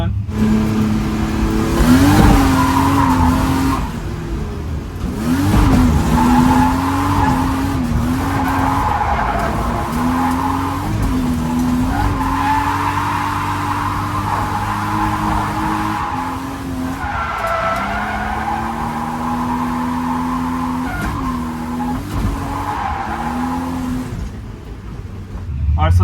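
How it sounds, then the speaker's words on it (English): A drift car slides through corners with long tire squeals and a revving engine that rises and falls steadily for the whole stretch, loud and close, with a driver talking over it. "I actually drifted."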